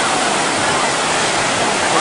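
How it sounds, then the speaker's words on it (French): Waves break on a Cape Cod beach in a loud, steady wash of surf, near and continuous, with no voices over it. "Des bonnes vagues."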